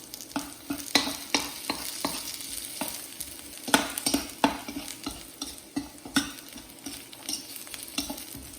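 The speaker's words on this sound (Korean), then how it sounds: "마늘을 이렇게 잘 타지 않게 볶아주세요." Garlic stir-fried in a pan sizzles steadily while a utensil scrapes and clinks against the pan in quick irregular strokes, close and fairly loud, with no voices.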